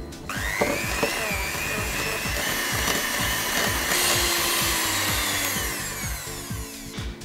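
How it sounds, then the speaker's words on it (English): An electric mixer whisks butter and caster sugar into a vanilla cupcake sponge mixture, giving a steady, close motor whine that runs the whole time with a faint rhythmic knocking of the beaters underneath. "which is why I recommend using an electric mixer"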